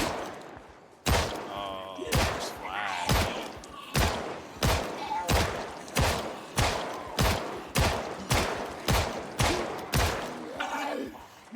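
Gunfire in the video game Project Zomboid: about fifteen loud, sharp shots fired at a steady rhythm roughly every half second to second, each with a short decaying tail, with a little background chatter between them.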